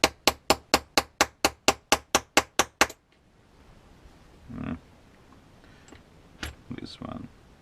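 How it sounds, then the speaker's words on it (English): A small watch hammer with a plastic end taps a ball bearing into an RC car, a quick run of about twelve sharp, evenly spaced knocks, followed by quieter handling noises and brief faint voice sounds. "I found those watch hammers, maybe you have some of those at home, really cheap, really handy sometimes."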